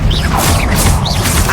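Expelliarmus disarming spell cast during combat in the video game Hogwarts Legacy: sharp magical swooshes and crackling impacts in quick succession, loud and close over a constant rumbling battle backdrop.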